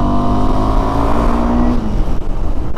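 A motorcycle engine on a Mumbai to Goa highway ride revs hard and builds speed, a loud close droning roar with rising tone that eases off near the end, with no voices.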